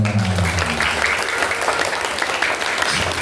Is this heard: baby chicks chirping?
no